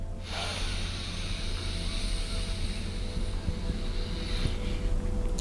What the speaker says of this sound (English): breathing into the belly through the nose